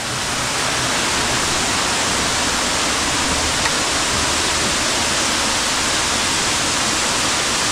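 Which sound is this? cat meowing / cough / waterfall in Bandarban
waterfall in Bandarban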